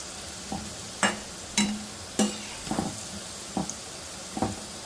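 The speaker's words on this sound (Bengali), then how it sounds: "দেখো এবারে কেমন সুন্দর তেজপাতাটা আলুর সাথে ভাজা হয়ে যাচ্ছে" Potatoes fry with a bay leaf in a pan, giving a continuous oily sizzle. About seven sharp scrapes and clacks of a spatula stirring against the pan punctuate it at irregular intervals.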